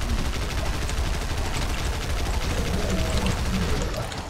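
SMG fire from a first-person shooter rattles on in a dense, continuous stream of rapid shots, loud and close, with no break across the whole stretch.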